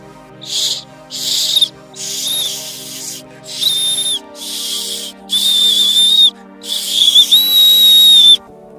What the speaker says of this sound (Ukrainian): Зараз спробую вам продемонструвати, як він свистів приблизно 100 років тому.